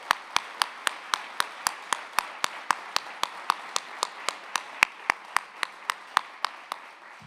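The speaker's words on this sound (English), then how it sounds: "Let's give them a round of applause." A crowd at a University of Wisconsin football welcome event for Coach Fickell claps in unison. Sharp, evenly spaced claps repeat at a steady quick rhythm, about three per second, loud and close, for the whole stretch.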